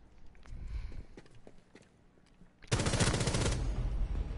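Gunfire in Rainbow Six Siege: soft scattered shots and footsteps at first, then a loud sustained automatic burst of rapid rounds that keeps going to the end.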